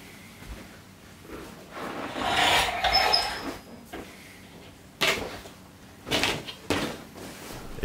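Someone cuts a new seat cover in a Chevrolet Tahoe, producing bursts of scraping, rasping and rubbing of fabric and material, close by and uneven, with a few sharper swipes near the end.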